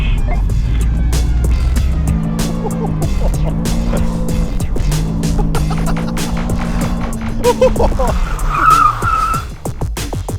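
Tires skid on a cheap used car during a budget car test drive, a loud sustained scrubbing and squealing smear with rising and falling engine tones, close and continuous, with people talking over it.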